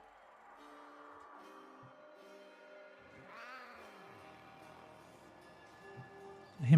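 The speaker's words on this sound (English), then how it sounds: "I hear my cat." A house cat meows several times nearby, the drawn-out cries rising and falling in a quiet room with no talk over them, and a louder sharp sound ends the clip.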